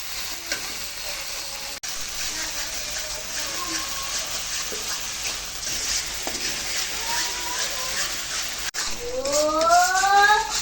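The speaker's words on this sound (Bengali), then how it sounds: "সামান্য হলুদ গুঁড়ো আর গুলে রাখা মশলা এখন কিছুক্ষণ কষিয়ে নেব" Spice paste with turmeric sizzles steadily in a frying pan for mustard hilsa, a constant close crackle with stirring noises, and a brief utensil scrape near the end.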